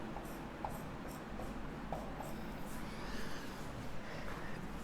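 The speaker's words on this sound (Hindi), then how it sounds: "तो मैं इसका आंसर ऐसे लिख रहा हूं" Handwriting an answer on a board or paper during a hydrocarbons chemistry lesson: faint, repeated short strokes tapping and scratching over a steady background hiss.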